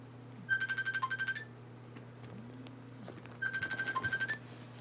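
A phone ringtone plays two short bursts of a repeating electronic melody with a gap between them, fairly quiet in a room that otherwise holds a steady low hum and no talking.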